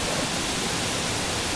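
Kalanay Falls in Palanas, Masbate, roars as a dense, continuous wash of falling water, loud and close, with nothing else heard.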